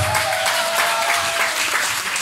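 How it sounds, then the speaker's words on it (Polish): Loud, dense applause from wedding guests for dance participants at a wedding reception, continuous clapping from a large crowd with a faint held tone underneath. "I gromkie brawa dla naszych uczestników"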